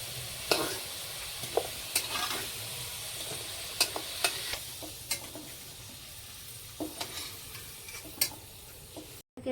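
Potato pieces fry in hot oil in a home kitchen, a soft continuous sizzle broken by sharp clicks and knocks of a stirring utensil against the pan at irregular intervals.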